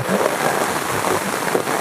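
Rain falls steadily on a dilapidated hut in a forest, a dense, even hiss that holds at the same moderate level from start to finish with no voices.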